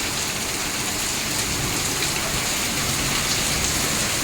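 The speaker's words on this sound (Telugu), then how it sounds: "అంతా వర్షమే ఉంది" Heavy rain from a hailstorm pours down in a dense, continuous hiss, loud and close, with no pauses or other sounds breaking through.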